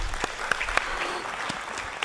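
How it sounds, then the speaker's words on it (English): Board members applauding at a board meeting, a short burst of close clapping with a few sharp individual claps standing out over the steady patter. "I think we should applaud for that."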